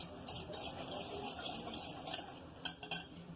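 Spoon or whisk clinks and scrapes against a mug while mixing cake batter to break up crumbles, a steady soft stirring with a few sharper knocks near the end, close and fairly quiet.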